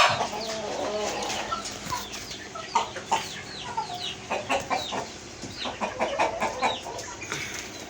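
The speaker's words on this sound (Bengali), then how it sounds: "মোট 7টা আছে, তার মধ্যে একটা মোরগ, বাকি হলো 6টা হলো মুরগি" Seven chickens, six hens and a rooster, cluck and chatter nearby in short repeated bursts that grow busier toward the end.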